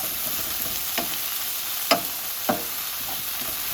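Pork tenderloin with curry paste sizzling in a pan, a constant close frying hiss with a few sharp pops and stirring scrapes.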